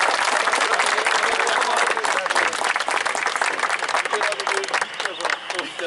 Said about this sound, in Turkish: Makgöç'e kocaman bir alkış.